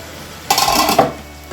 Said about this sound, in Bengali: আমি ঢাকনাটা খুলে নিচ্ছি